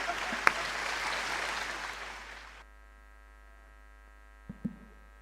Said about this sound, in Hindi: आप जोरदार तालियों के साथ रमेश मुस्कान का स्वागत करें।